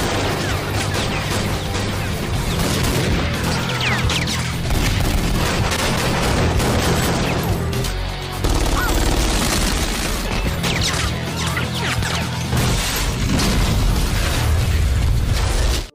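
Dense, loud gunfire fills a shootout scene from a Steven Seagal action film, with bursts and booming shots layered over a continuous roar of action-scene sound.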